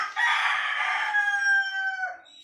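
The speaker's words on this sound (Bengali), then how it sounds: "আপনারা সব ভিডিও দেখতে আমাদের মোরগের ডাক শুনতে পারেন" A pet rooster crows once at close range in the morning, a loud, drawn-out call that rises, holds and then trails off near the end, with no talking.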